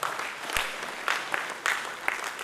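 A crowd at an UMNO Youth division meeting in Batu Pahat, Malaysia claps steadily, a dense wash of applause with a few sharper claps standing out, moderately distant.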